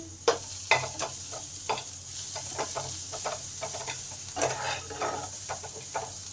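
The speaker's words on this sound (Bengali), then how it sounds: "আদা রসুন পেঁয়াজ লঙ্কা সব ভালো করে আমার ভাজা হয়ে গেছে" Ginger, garlic, onion and chili frying in a pan, a continuous sizzle broken by frequent short scraping and stirring strokes of a spatula, close up with no voices.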